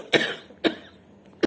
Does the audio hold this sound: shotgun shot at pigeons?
no